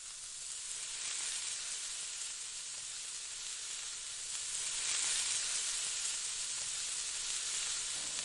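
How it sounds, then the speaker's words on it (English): Butter and garlic melting together in a small bowl for garlic naan make a steady, close, hissing sizzle that swells slightly midway and carries on without pause or speech. "In a small bowl, melt butter and garlic."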